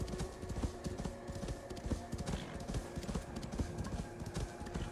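Horse hooves clip-clop steadily in Assassin's Creed Valhalla, a fast, even trotting rhythm close up over a soft ambient bed, with no talk.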